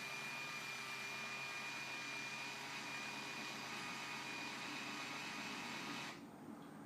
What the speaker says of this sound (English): So here's the motor, it's adjusting it down.